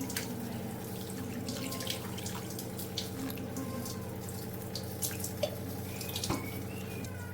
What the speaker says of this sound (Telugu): ఫ్రెష్ వాటర్తో కూడా మనం ఒకసారి వాష్ చేసుకున్నాం.